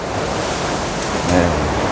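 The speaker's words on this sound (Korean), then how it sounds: "여기는 또 요 정도 되는 파도나 이런 거를 만날 수가 있습니다" Open-sea waves around a cruise ship on a North Atlantic route toward Iceland, heard as a steady broadband wash with a slightly stronger swell surge near the end, with no talking.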